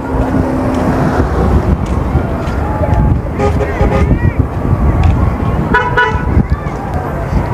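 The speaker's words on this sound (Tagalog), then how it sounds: "Mamaya na, ang dami sasakyan." Busy street traffic outside a school at dismissal in the Philippines, with engines rumbling close by, several car horns tooting in short bursts, wind buffeting the microphone, and people talking nearby.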